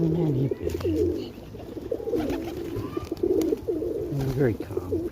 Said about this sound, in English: Very calm pigeons today.